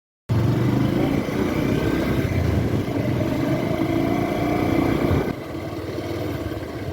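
Bajaj motorcycle riding through town traffic, its engine droning steadily and loudly up close, then dropping to a quieter idle-like hum near the end after a turn.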